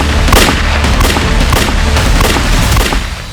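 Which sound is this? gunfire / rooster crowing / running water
gunfire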